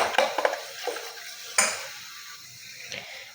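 Flour and water are whisked together in a bowl to thicken saag, giving a few scraping, knocking stirs close up that fade into quieter swirling.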